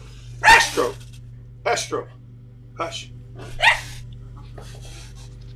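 A dog barks in several short, sharp bursts spaced a second or so apart, with a sneeze-like snort among them, fairly close, over a steady low electrical hum while a person briefly speaks.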